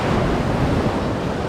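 Sea waves on the Italian Riviera wash in a loud, continuous broadband rush close to the microphone, with wind buffeting mixed in and no voices.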